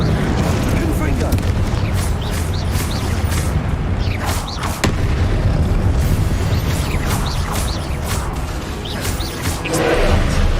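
Confringo blasting-spell explosions in Hogwarts Legacy boom and crash repeatedly amid a dense, loud battle din, with bursts scattered across the whole stretch.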